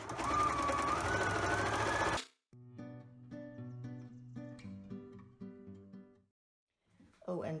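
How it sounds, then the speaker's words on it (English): A sewing machine runs steadily, stitching elastic with a three-step zigzag stitch for an off-the-shoulder bikini, then stops; a voice talks over part of it. "I use a three-step zigzag stitch, and that's a very good stretchy stitch to use for this kind of projects."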